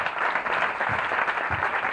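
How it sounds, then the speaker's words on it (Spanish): Audience applause for a newly crowned king and queen at a local gala in Albelda de Iregua, a steady, dense clapping that fills the whole stretch without pause. "¡Dale ese aplauso para los nuevos reyes!"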